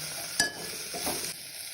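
Garlic, tamarind, sesame seeds and coriander fry in oil for a mint chutney, a brief close sizzle with a sharp utensil scrape and soft stirring rustles.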